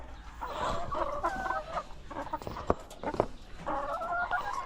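Chickens cluck in a backyard coop, several hens giving repeated clucks and short calls close by, with a few sharp pecks or knocks between the bursts.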